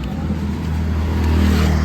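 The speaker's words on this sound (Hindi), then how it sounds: "ये देखो कैसे इनका ट्रैफिक लगा हुआ है" A traffic jam in Shillong during Durga Puja brings a low, steady rumble of idling and creeping car engines close by, with a faint engine whine and no clear talk.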